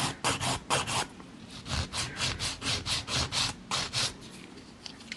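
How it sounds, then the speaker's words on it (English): A nail file scrapes back and forth across a nail tip during a nail-art filing routine. The strokes are quick and rhythmic, about a dozen raspy passes, close but soft, with no talking. "Now this is my filing routine."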